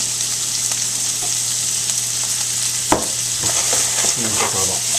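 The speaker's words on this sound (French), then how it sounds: "on fait sauter tout simplement les oignons." Onions sauté in a pan with a loud, constant sizzle, broken by a sharp clack near the middle and several stirring scrapes afterward, close and clear with no voices.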